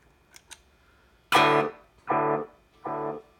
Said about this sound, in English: I've got a delay pedal in front of the distortion